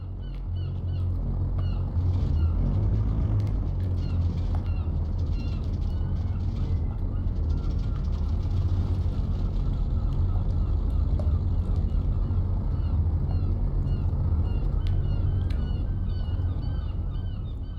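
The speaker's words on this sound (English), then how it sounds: "let's get the left engine going" The left engine of a Goose aircraft in X-Plane 11, heard from outside, runs as a steady, dense low rumble with a throbbing drone that holds evenly throughout.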